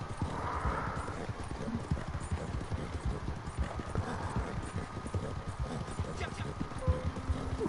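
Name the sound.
horse hooves and whinny in the video game Red Dead Redemption 2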